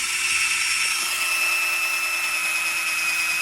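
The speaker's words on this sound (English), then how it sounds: "And now I'm gonna come and use this drill right here." A power drill whines steadily at high pitch, a continuous mechanical drone boring holes into a log for shiitake mushroom plugs, with no pauses.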